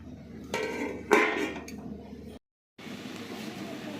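Metal pot lid set down on a cooking pot of prawn shells and garlic, a couple of clinking knocks followed by a brief rattle, close and fairly loud against the kitchen hum.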